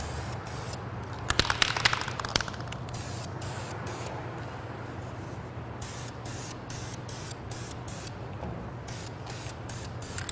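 A Dupli-Color Metalcast aerosol can sprays paint in a steady hiss laid on as a wet coat, broken by many brief pauses and a rattling stretch early on, close up and with no talking.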